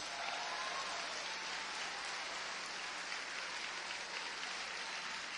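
A church congregation applauding during a sermon, a steady, dense wash of clapping that holds evenly throughout without pause or talk.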